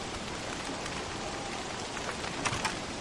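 Steady rain in the Don't Starve video game, a continuous hiss of falling drops with a couple of slightly sharper patters near the end, no talk.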